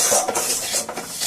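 A spoon stirs and scrapes a dry laddu mixture in a metal pan on a switched-off gas stove, producing close, loud rhythmic scraping and clattering with no talk.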